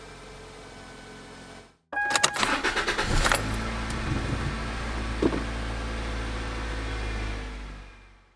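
A high-mileage Toyota Corolla with a replaced catalytic converter starts after a moment of quiet with a jangling, rattly crank, then settles into a steady, close engine idle that fades near the end.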